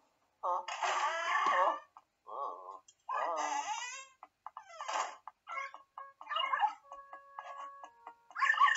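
Playful barks and yips from the Polterpup, a ghost dog in the video game Luigi's Mansion 3, come with bursts of game sound effects and some voice-like sounds.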